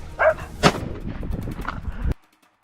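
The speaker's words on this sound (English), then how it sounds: "The shot landed, the target darted off in a frenzy" A rifle shot fired during a wild boar hunt cracks out as a single sharp, loud report early on, followed by rustling movement and some scattered noise that cuts off abruptly near the end.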